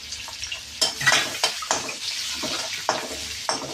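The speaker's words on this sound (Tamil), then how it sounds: "பூண்டு வெங்காயம் நல்லா வதங்கணும்" Garlic and onion sauté with urad dal and cumin in a pan, giving a low sizzle broken by several sharp scrapes and clinks of a stirring utensil against the metal, close and fairly quiet.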